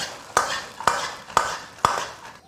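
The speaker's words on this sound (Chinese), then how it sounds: "下入炸好的平菇，翻炒均匀" Fried oyster mushrooms are tossed in a wok for a Sichuan fish-fragrant dish, with four evenly spaced scraping strokes of the spatula over a soft background sizzle.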